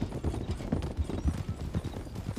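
Steady clip-clop of horse hooves on a road, a continuous rhythmic series of close, moderately loud footfalls.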